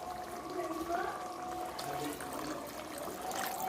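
Water poured into a pan of spiced chicken to boil it, a steady close trickle and splash heard beneath a faint background tone.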